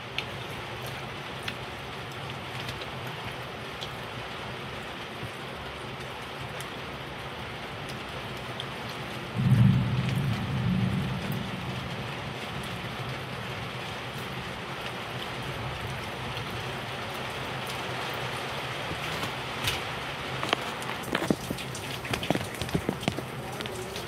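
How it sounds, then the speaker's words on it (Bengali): Steady rain falls throughout, with a low rumble of thunder swelling briefly partway through. "রোজ এই টাইমে বৃষ্টি, রেগুলার এক জিনিস হচ্ছে।"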